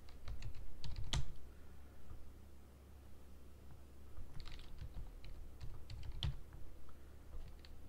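Keys clatter on a computer keyboard as a terminal install command and password are typed, giving irregular bursts of soft clicks with short pauses between groups, fairly close and quiet.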